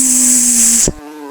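A voice imitates a buzzing bee with a steady, sustained hissy buzz for almost a second, close and loud, as part of a children's phonics reading lesson. A brief thump cuts it off, followed by a quieter tonal hum.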